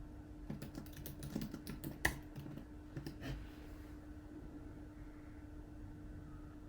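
Password being typed on a computer keyboard, a quick burst of light key clicks clustered in the first few seconds, then quiet room tone with a faint steady hum.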